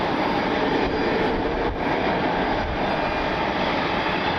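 A SkyWest CRJ regional jet at Cleveland Hopkins in the rain gives off a steady, broad engine roar, moderately loud and unchanging across the moment, with no voices.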